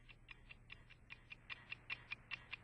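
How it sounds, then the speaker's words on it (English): A wristwatch ticks close to the ear, a steady even run of sharp, light clicks about five per second, quiet and alone with a faint low hum beneath. "Hold a watch near your ear and listen to it ticking."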